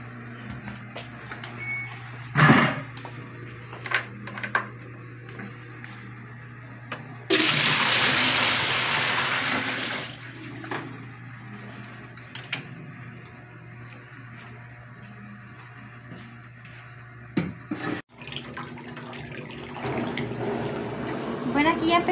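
Water gushes into a digital washing machine, with a strong burst of filling that lasts several seconds and a few clicks and knocks. A steady motor hum runs underneath, and a person talks at times.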